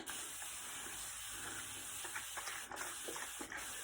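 A pump spray bottle mists water onto curly hair, giving a steady, soft close hiss that runs unbroken for a few seconds with faint rustling underneath.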